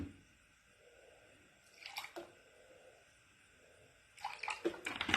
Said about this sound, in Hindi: आप देखिए इसमें हमने थोड़ा सा पानी डाल दिया।